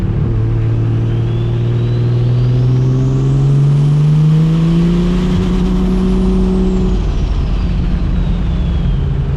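A BMW E92 M3 engine and exhaust drone loudly and steadily up close, the pitch climbing as the car accelerates, with no talking over it.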